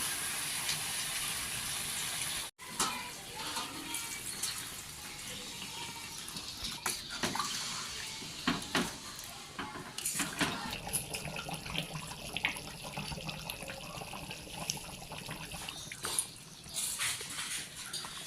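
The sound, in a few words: water being poured into mutton curry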